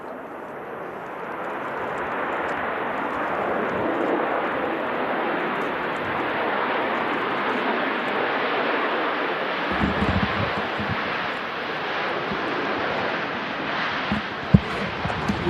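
An airliner lands at Manchester Airport in strong Storm Darragh winds: a steady, loud engine roar mixed with wind buffeting the microphone. It holds evenly throughout, with a few small knocks near the end.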